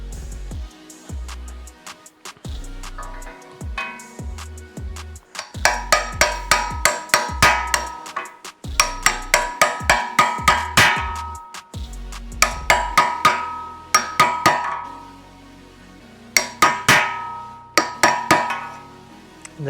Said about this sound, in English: then just finish it off with a hammer and a large socket.